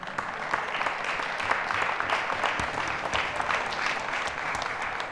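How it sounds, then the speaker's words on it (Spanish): A church congregation claps in praise to the Lord during a sermon, giving dense, sustained applause from a crowd that fills the room at an even level throughout. "eso merece un aplauso al Señor"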